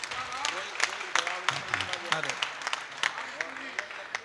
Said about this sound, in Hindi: एक बार मेरा मन है आप उसके लिए तालियां बजाइए